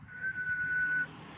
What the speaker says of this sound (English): so it's just give it a whistle